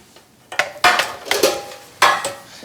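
Metal bread loaf pans clank and rattle as they are handled in a kitchen, with four or five sharp ringing knocks in quick succession, close and fairly loud, with no talking.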